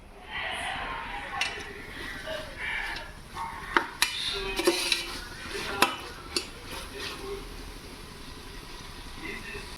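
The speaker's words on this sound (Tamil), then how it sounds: "இப்போ தக்காளி நல்லா வதங்கட்டும்." Small tomatoes cook down in a pot for chicken biryani, a soft sizzle with scattered clinks and scrapes of a spoon stirring against the metal, close by, while someone talks over it.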